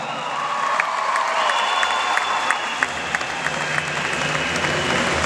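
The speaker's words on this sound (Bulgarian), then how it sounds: "аплодисменти за госпожа Раева" Audience applause fills a hall at a rhythmic gymnastics honouring ceremony in Sofia, a dense, steady wash of clapping from a large crowd with occasional sharper claps and faint shouts, continuing throughout.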